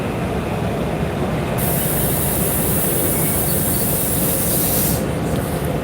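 A Union Station train comes in on its track as a loud, continuous rumble of wheels on rails, with a harsh hissing, grinding layer that swells and then eases.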